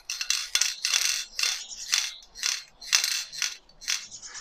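A rapid metallic rattling and clicking from the loose ball inside a fired Audi front seat belt mechanism, repeated in short shaken bursts, close and fairly quiet.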